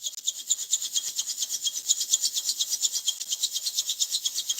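Rapid, steady rasping strokes of sanding, a rhythmic scratchy back-and-forth with high hiss, close and continuous with no voices.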